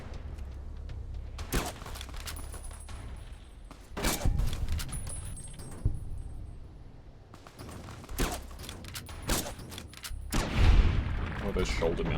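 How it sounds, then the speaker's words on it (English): Fallout New Vegas combat with shoulder-mounted machine guns firing, loud bursts and booming impacts recurring every couple of seconds across the stretch, with a voice talking between shots. "Those shoulder-mounted machine guns."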